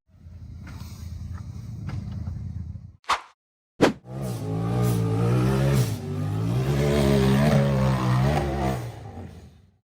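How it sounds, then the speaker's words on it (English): A black off-road buggy with pink accents revs hard as it climbs out of a muddy pit up a steep hill, a loud sustained engine roar rising in pitch after a brief idle, two sharp cutouts and a short pause. "The black buggy with pink accents started from the muddy pit and accelerated up a steep hill"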